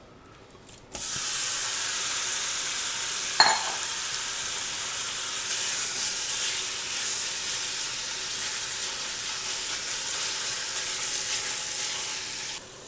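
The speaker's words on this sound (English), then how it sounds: "grab your ground beef and get it all browned up" Ground beef browning in olive oil in a hot pan, a steady close sizzle that starts abruptly after a brief quiet moment, with one sharp pop near the start, then continuing evenly throughout without any talk.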